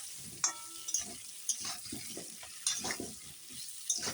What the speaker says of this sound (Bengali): এখন আলু আর আলুটা ভালো করে ভাজা হয়ে যায়